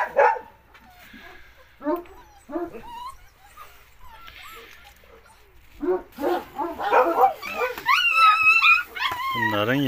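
Puppies of a large dog barking and yipping in short high bursts, growing busier and louder toward the end, mixed with a person's voice talking nearby.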